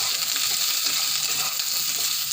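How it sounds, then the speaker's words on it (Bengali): Vegetables frying in a pan give a steady, dense sizzle throughout, close and continuous with no voices. "আমি ভালো করে ভেজে নেবো এবার সবজিটা।"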